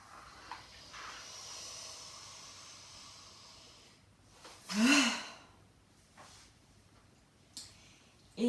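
A single deep breath drawn in and let out near the end of a stretching session, a clear airy inhale-exhale swelling loudly for about a second amid quiet room tone, with a few softer breaths after.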